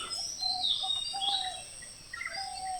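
Several birds singing and chirping near the Kabini river bank in Wayanad, high whistled calls and short tweets overlapping at moderate distance over a quiet outdoor background, with no talking.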